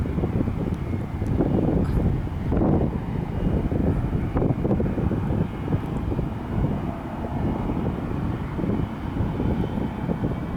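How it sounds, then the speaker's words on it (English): An American Airlines jet takes off near El Paso, Texas, its broad steady engine roar mixed with wind buffeting on the microphone for about ten seconds. "Looks like American Airlines is next for takeoff."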